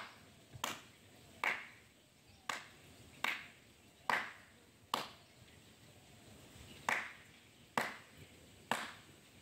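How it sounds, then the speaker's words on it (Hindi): Hands clapping beside a bubbling pond, about eleven sharp, separate claps at an uneven pace, each ringing briefly over quiet surroundings. "जैसा आपने देखा मैं कई बार तालियां बजाया, कोई असर नहीं हुआ।"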